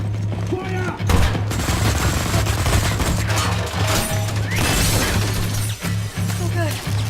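Gunfire in Wolfenstein: The New Order, with repeated shots and bursts and sharp shattering impacts over a steady low engine drone, while voices shout over the action.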